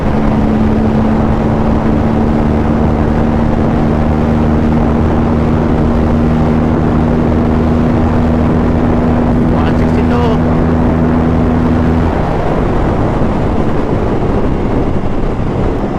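An Aprilia RS457 motorcycle on a test ride gives a steady, loud engine drone under heavy wind buffeting at speed, with the tone dropping away near the end and a voice faintly present.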